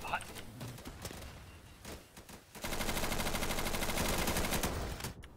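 Rapid automatic AK rifle fire in the video game Insurgency, a few sparse shots first, then a dense sustained burst of sharp cracks lasting a few seconds, fairly loud and close.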